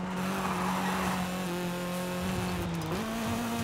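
A B16-swapped Honda CRX in Forza Horizon 5 holds a steady, loud engine drone with a humming tone, running downhill on a volcano road and dipping briefly near the end before settling again, with no talk.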